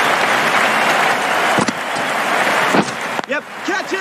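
A cricket crowd at a New Zealand versus West Indies match cheers and applauds in a loud, continuous roar, with a commentator talking over it.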